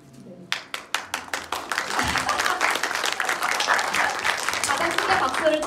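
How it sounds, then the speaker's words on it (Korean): An audience at a book talk with student authors begins with a few scattered claps that quickly swell into loud, sustained applause, with voices mixed into it. "가장 크게 박수를 치시네요, 동원님"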